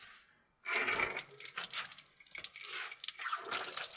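Water runs from a tap in a second bathroom of a village house in Bagidol, a close, splashing gush that starts abruptly after a moment of quiet and keeps flowing unevenly.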